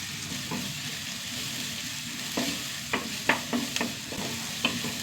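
Chopped onions, shallots and garlic softening in a pan, a quiet steady sizzle broken by several short scraping stirs of a spoon near the end.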